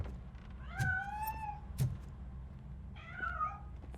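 A cat meows in the video game Robocop: Rogue City, hiding inside a piano, with three short, clear meows spaced across a few seconds over a low ambient game hum.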